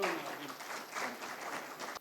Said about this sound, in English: Give a big round of applause to Samir.